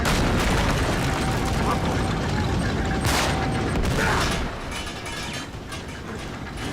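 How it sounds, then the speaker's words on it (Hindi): A structure crumbles in Uncharted 3: Drake's Deception in the City of Gold: a sustained, loud, broadband rumble with crashing and gunfire-like bursts that eases near the end, with a voice faintly underneath. "ये पूरा गिरने वाला है।"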